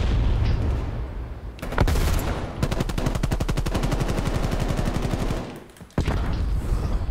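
Loud automatic gunfire in Call of Duty: Black Ops Cold War, a long rapid burst of evenly spaced shots after a few heavy blasts, followed by a pause and another sharp shot.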